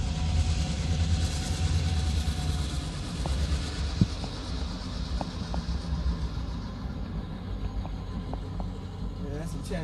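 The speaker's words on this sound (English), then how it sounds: "Choo-choo train, Tristan." A train rumbles past, a continuous low heavy roar with rhythmic clanks and a few brief higher squeals over about ten seconds, as heard from a moving car while people talk.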